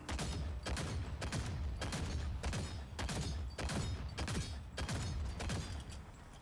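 Rapid gunfire from the player in TankHead, fired at a target, gives loud, rhythmic bursts of shots with short gaps between them, pounding and mechanical over constant game noise.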